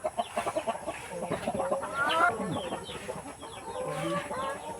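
Chickens cluck and chatter continuously at close range, several birds overlapping in a busy, fairly quiet flock.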